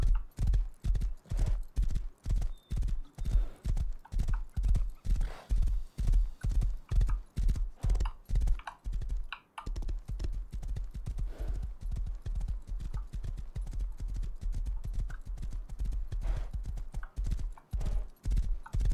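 Horse hooves gallop in the video game Rust, a steady fast clip-clop rhythm close and loud for the whole stretch, with a brief whinny and a short break midway before the hoofbeats resume.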